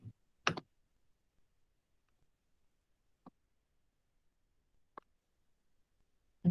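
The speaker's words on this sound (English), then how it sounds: "You have to stop right clicking." Sparse, isolated mouse clicks, including right-clicks, come through in an otherwise quiet room, a sharp click followed by three single clicks spaced a second or two apart.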